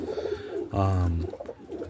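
Roller pigeons in a loft at night give a single close, low coo lasting about half a second, set against quiet rustling in the background.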